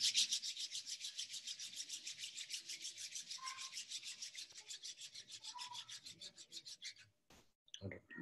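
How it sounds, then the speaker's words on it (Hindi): Two hands rubbing briskly together in fast, even back-and-forth strokes, close and dry-sounding, for several seconds before stopping abruptly near the end. "दोनों हाथ को रब कर लें।"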